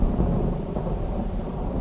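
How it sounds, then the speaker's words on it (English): Monsoon thunderstorm on Koh Tao, Thailand: a steady, dense roar of heavy rain mixed with low rumbling thunder, loud and continuous throughout with no voices. "These storms are just beautiful and epic."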